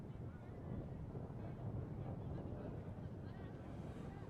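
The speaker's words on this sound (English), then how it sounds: "It's quite windy here at Rugby Park at the moment" Gusty wind buffets the microphone at Rugby Park during a women's 10s rugby match, a steady, low, rumbling roar that continues without a break.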